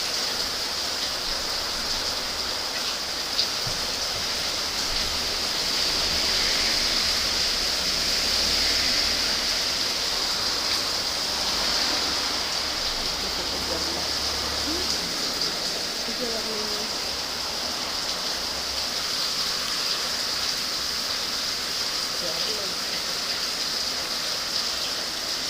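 Heavy rain pouring steadily, a dense, even hiss with no pauses that stays at the same loudness throughout, with no voices heard.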